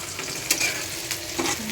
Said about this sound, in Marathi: आता चांगलं लाल होईपर्यंत परतायचं गॅस मंदाशी ठेवायचे बघा